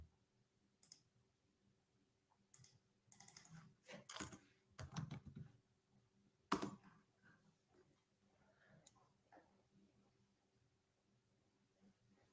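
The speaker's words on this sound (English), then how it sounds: "let me type something in here" Someone types on a computer keyboard in scattered bursts of quick, quiet keystroke clicks separated by pauses, recorded up close.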